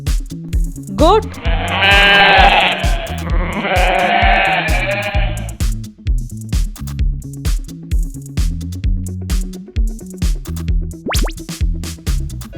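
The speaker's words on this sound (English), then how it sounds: "Goat." A goat bleating loudly and close, one long wavering bleat lasting several seconds, over a steady pulsing musical backing beat.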